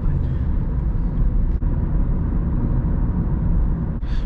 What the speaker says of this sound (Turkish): Lastiklerden bir uğultu var sadece.